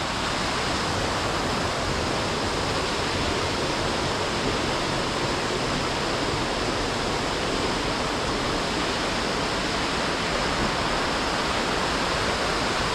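A low-running stream splashes over rocks in the wooded valley of Kennall Vale, a disused gunpowder works site, making a steady, loud, unbroken rush of water that continues with no voices.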